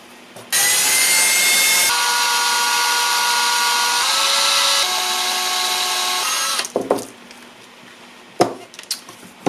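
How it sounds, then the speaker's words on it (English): A power drill bores attachment holes while building an HF wire dipole antenna, whining loudly and steadily for about six seconds with pitch shifts, then stopping, followed by a few sharp clatters and handling knocks. "Now I'll just drill the attachment holes."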